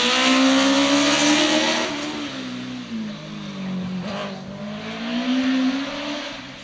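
A go-kart engine on an outdoor kart track in Emsbüren, revving loud and near, then dipping and rising again as the kart drives past with a faint squeal of tyres.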